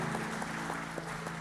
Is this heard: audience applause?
yes